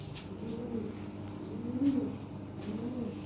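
Lahore pigeons coo in repeated soft, low rolling calls, close by and without any talk.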